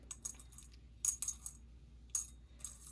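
Pieces of desert glass clink and tap together as they are handled, several sharp bright clicks at irregular intervals, close and fairly quiet with no talking.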